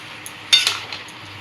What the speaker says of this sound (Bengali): এদিকে সেদ্ধ করে রাখা পুঁই শাকটা পুরোটাই দিয়ে দেবো দিয়ে ভালো করে নাড়িয়ে চাড়িয়ে নেব